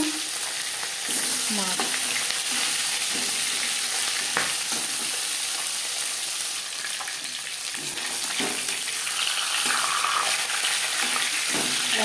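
Steady, loud sizzling of silver carp frying in a hot pan, with occasional clinks and scrapes of a utensil over the continuous crackle.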